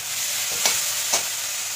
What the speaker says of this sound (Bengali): মাছগুলোকে ভেজে নিব হালকা করে।